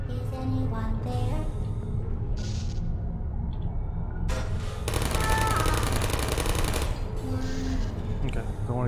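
Automated turret gunfire in the video game Portal, with a loud, rapid burst of machine-gun-like shots in the middle amid mechanical clatter and game sounds, with speech around it.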